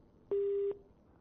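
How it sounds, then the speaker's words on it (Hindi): A single steady telephone line tone after a dropped call during a Haryana news bulletin phone-in, a clear sustained beep lasting about half a second, alone against low background hiss. "चलिए कोई बात नहीं वैशाली जी, आपका फोन कट गया है"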